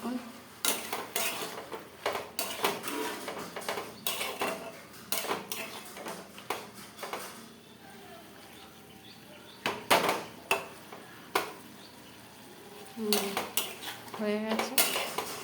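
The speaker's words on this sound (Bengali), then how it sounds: "এবার একটু ঢাকনা খুলে দেখবো কতটা হয়েছে।" Metal spoon scraping and clinking against a cooking pot while okra curry in mustard and poppy seed paste is stirred, with irregular sharp taps, a lid handled, and a brief quieter stretch in the middle.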